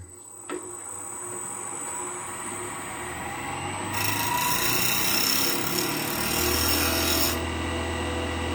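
The edge of a woodturning gouge scrapes across a spalted beech box, giving a soft rasping, rubbing sound that swells louder and brighter midway before easing off, close and alone.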